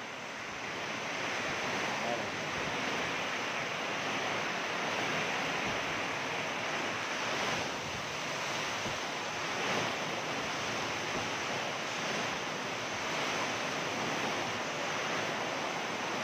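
Strong typhoon wind and rain roar in a steady, broad wash of noise heard from a condo in Batangas, with gusts swelling now and then and no clear voices.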